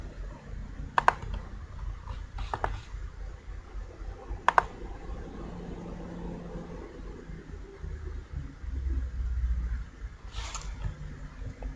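A handful of sharp, isolated computer keyboard key presses click at irregular intervals while someone codes a web animation, heard over a low, steady room rumble.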